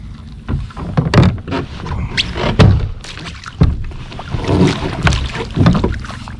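Paddle strokes knock and splash against a Delta 12AR kayak, with water sloshing and occasional thuds and wind buffeting the microphone.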